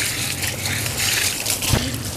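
Water gushing and splashing steadily onto a dirty motorbike and its tyres during a wash, close and continuous, with one louder thump near the end.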